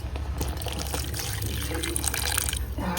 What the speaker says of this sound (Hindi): थोड़ा डाल दी पानी।